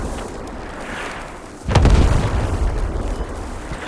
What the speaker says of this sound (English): That's a 120 mil mortar.